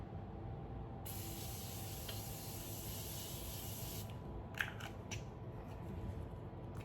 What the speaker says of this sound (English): This one, you definitely have to spray like that.